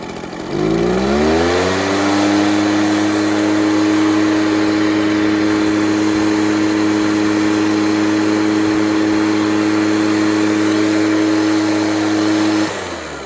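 Echo PB413H backpack blower engine spinning up and then holding a steady, loud idle with a constant droning whine for about ten seconds before cutting off, close to the machine and without talk.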